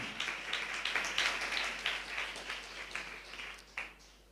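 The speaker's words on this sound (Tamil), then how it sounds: "நல்ல கைத்தட்டி ஆண்டவருக்கு நன்றி சொல்லுங்களேன்." A church congregation claps along during a Tamil worship service, a steady patter of many hands filling the space, moderately loud and continuous with no talking over it.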